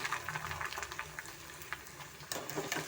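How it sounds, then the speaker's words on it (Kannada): Cornflakes fry in hot oil with a steady, dense crackling sizzle that holds for the whole stretch and swells slightly near the end. "ಸ್ವಲ್ಪ ನಾವು ಈ ಥರ ಫ್ರೈ ಮಾಡಿಕೊಂಡೆ ನಮಗೆ ಸಾಕು ನೋಡಿ ಈ ಥರ ಸೌಂಡ್ ಬರಬೇಕು"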